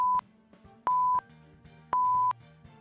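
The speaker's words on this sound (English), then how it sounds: "It is the sound of the bomb counting down." Bomb countdown beeping from the Ace Attorney: Dual Destinies video game, three crisp electronic beeps spaced about a second apart, heard alone over a soft synthesized musical background.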